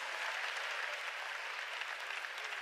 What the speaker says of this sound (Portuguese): Eu gostei de gente que começou a aplaudir isso.